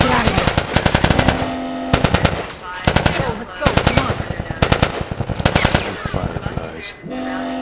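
Rapid automatic gunfire in The Last of Us firefight, loud bursts of machine-gun rattle repeating in quick clusters with brief pauses, close and dominant, with shouting voices mixed in.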